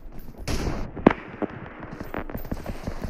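Scattered gunshots from a shooter video game, a few sharp cracks and pops at irregular intervals over busy game ambience, with faint background voices.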